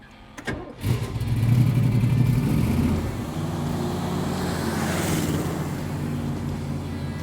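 A 513-horsepower V8 engine in a Baldwin Motion Maco Shark Corvette cranks and fires up, then settles into a steady, throaty rumble that swells slightly as it revs; no voices.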